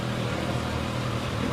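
A 2026 Kawasaki ZX6R sport motorcycle engine runs steadily at close range, holding a loud, continuous rev with a low-pitched drone.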